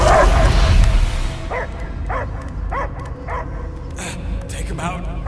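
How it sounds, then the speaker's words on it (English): In a cutscene from the Guardians of the Galaxy video game, a dog gives a series of short, rhythmic barks and yips, about seven evenly spaced, fairly close, after a loud opening rush of sound. "I hear only barking"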